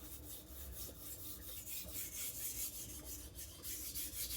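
A Tojiro kiritsuke kitchen knife is drawn across the full face of a diamond plate whetstone, giving a steady, close, gritty rasping in repeated back-and-forth strokes with no talking.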